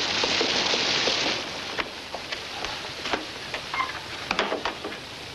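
Steady hiss of rain for the first second or so, then it thins out, leaving scattered drips and soft tapping with no voices.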